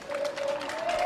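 Brief burst of crowd applause at an amateur soccer match as a captain returns to the pitch, somewhat distant, with a steady tonal hum running underneath.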